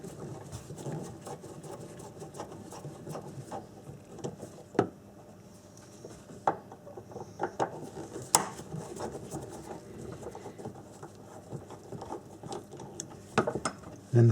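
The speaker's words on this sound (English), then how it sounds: "So what you want to do is just remove these two screws." Intermittent clicks and scrapes of a Torx T30 bit working screws loose from cargo lashing hooks in the boot of an Audi A4 Avant, quiet and close with a few sharper taps scattered throughout.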